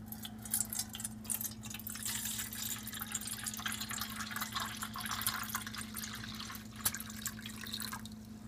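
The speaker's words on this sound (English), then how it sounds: "put my 2 cups of water in my MSR Titan" Two cups of water poured into an MSR Titan pot beside a lit camp stove, a steady trickling and splashing pour over a constant low burner hum, with no talking.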